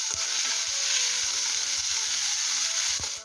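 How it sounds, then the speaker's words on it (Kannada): Onions or masala frying toward golden brown for prawn dum biryani, a loud, steady hiss of hot oil with soft irregular stirring knocks underneath, close up and without speech. "ಗೋಲ್ಡನ್ ಬ್ರೌನ್ ಬರುವಷ್ಟು ಇದು ಫ್ರೈ ಆಗಬೇಕು"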